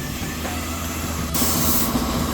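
A paint spray gun sprays paint on a Mercedes-Benz C200, a low mechanical background that abruptly bursts into a loud, steady airy hiss partway through, close by.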